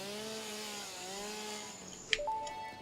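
A chainsaw cuts in the video game Satisfactory, giving a steady buzzing whine that shifts pitch before a short sharp clatter near the end.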